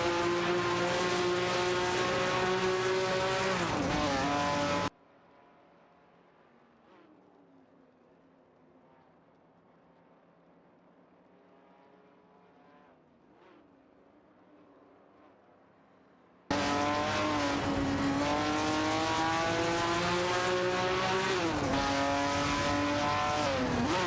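Racing cars in an AI racing video game, among them a Fiat X1/9 Dallara, a Ford Falcon and a Ferrari 275, scream past with high revving engines and gear-change sweeps, cutting to near silence midway before the loud engine howl returns.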